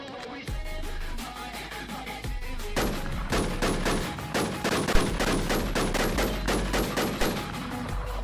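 Dense bursts of gunfire in a fantasy online battle game, rapid overlapping shots with a machine-gun rhythm that grow louder after the first few seconds and keep on steadily to the end, with music underneath.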